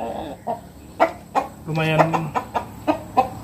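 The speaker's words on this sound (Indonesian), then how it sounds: "ini ayam Brahma yang putih dan ayam Bangkok yang hitam ya." A white Brahma hen and a black Bangkok chicken clucking close by, with short sharp clucks in an uneven rhythm and one longer call in the middle, while someone talks over them.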